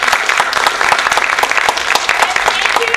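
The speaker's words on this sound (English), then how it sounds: "Big round of applause." An audience at a family cultural festival in Korea gives a round of applause, loud, dense clapping from many hands close by, lasting the full stretch without voices.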